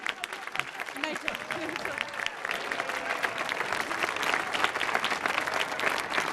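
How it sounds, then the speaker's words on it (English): A theater audience applauding, dense sustained clapping that swells slightly and holds steady, loud and close, with a few voices in the crowd. "So let's put our hands together one last time for this amazing group."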